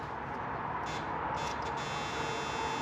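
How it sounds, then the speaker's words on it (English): Door-ajar buzzer in a 1973 Chevy Nova being revived for its first start after 10 years, a steady continuous electric buzz holding at an even level throughout, close and alone with no talk. "Well, there's a buzzer."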